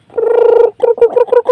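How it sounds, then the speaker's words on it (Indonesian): A chicken gives a drawn-out call followed by several short, choppy clucks, loud and close with no other sounds around it. "ada ayam."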